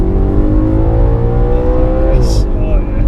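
An Audi RS4's high-revving V8 roars loudly and steadily from inside the car, its pitch climbing and then dropping slightly near the end as the engine is revved hard.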